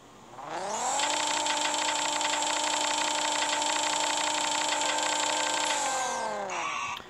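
Honda S2000 Race Edition in the racing game Racing Rivals revs up into a loud, steady high-pitched engine whine, holding for about five seconds before cutting off abruptly.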